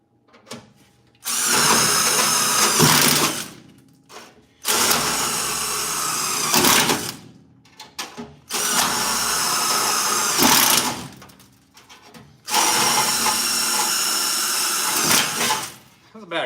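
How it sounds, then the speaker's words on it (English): A battery-powered drill bores holes across a car frame in four long whining bursts of about two to three seconds each, loud and close, with short quiet gaps between them. "And I'll drill all the way back across."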